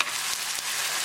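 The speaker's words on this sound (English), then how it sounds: "We're going to cook onion really well." Onion fries in oil with garlic for a potato and Pacific cod fish curry, producing a short burst of steady, close sizzling with two faint stirring taps.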